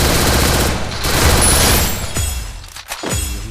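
Rapid MP40 submachine gun fire in a battle royale video game, a loud dense fusillade of shots that rattles on and then breaks into a few separate bursts near the end.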